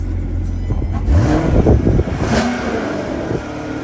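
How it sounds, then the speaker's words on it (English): The 6.2 V8 exhaust of a 2018 Corvette C7 Stingray Grand Sport automatic revs up sharply, climbs against a soft limiter and falls back to a burbling idle, loud and close. "Let's have a quick listen to the exhaust"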